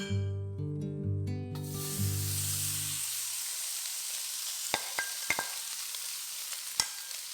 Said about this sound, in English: In a hot pan over medium heat, fry the luncheon meat till they are lightly brown.